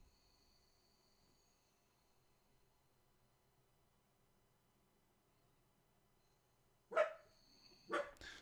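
Two sharp dog barks ring out close by near the end, following a long stretch of quiet background with faint insect chirping.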